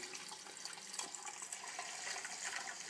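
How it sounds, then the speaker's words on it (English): Tap water running into an old stone sink, diluting dye, a steady splashing rush with faint gurgles, fairly close and quiet, with no voices. "I'm having to kind of run a little bit of water into the dye and then dilute it a little bit"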